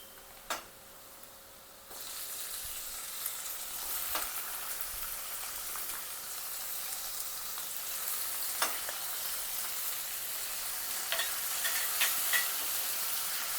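Tomatoes added to browned onions in a hot kadhai sizzle and fry steadily, the crackle growing louder after a soft clank, with occasional stirring clicks.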